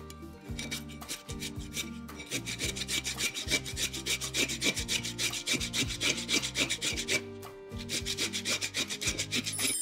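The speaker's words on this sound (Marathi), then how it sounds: "काकडी किसून घ्यायची" Cucumber is grated in quick rhythmic rasping strokes, a steady scraping back-and-forth with a short pause partway through, close and moderately quiet.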